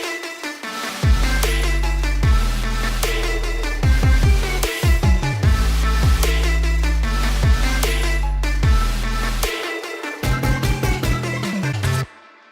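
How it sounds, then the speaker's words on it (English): Processed future bass synths in a full song mix, with thick pulsing chord stabs over heavy sustained bass and drums, loud and dense before a sudden drop near the end. "let's play that part of the song to hear all the synths processed in action"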